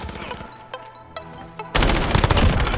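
RAM assault rifle in Modern Warfare, scattered clicks and handling noises, then a loud sustained burst of automatic fire filling the final second.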